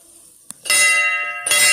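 A metal temple bell at a Shiva temple rings twice with bright, sustained ringing tones, the second strike following about a second after the first, close and loud.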